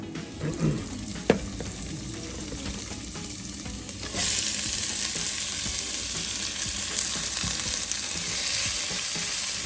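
Cabbage sizzles and frying in a pot for a Sunday dinner, with a spoon scraping and stirring through it; a brief clatter early on, then the hiss grows louder and steadier and carries on alone.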